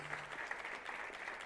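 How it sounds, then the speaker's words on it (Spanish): An audience at the Hay Festival in Segovia gives a brief round of applause to welcome Guillermo Arriaga, heard as a moderate, steady patter of clapping hands with a faint background hum. "Es el momento de recibir con el aplauso que merece a Guillermo Arriaga desde esta pantalla."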